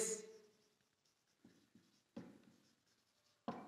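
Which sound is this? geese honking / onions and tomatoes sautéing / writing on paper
writing on paper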